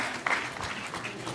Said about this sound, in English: I think first the whole hall should clap for him